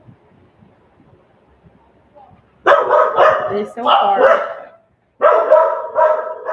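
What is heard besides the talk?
dogs barking in the house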